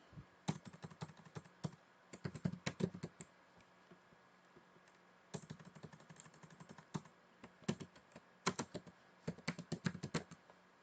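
Fingers type on a computer keyboard in bursts of rapid clicking keystrokes, close and crisp, with brief pauses between runs and no talking.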